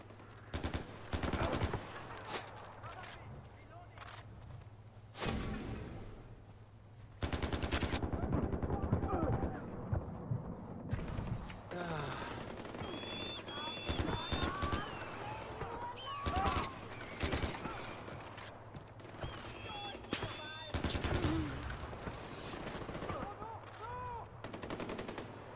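Gunfire in the video game Far Cry 4 comes in repeated bursts, with rapid automatic volleys and single shots mixed with explosions and in-game voices, loud and close across the stretch.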